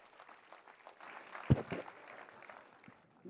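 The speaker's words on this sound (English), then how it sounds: "Would you please greet him with a strong round of applause, ladies and gentlemen?" Faint, distant applause from an audience at a Chennai Super Kings function, a soft scattered patter with a single sharper clap partway through.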